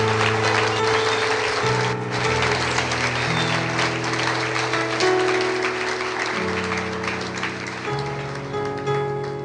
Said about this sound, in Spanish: Si va a aplaudir, hágalo, no hay problema.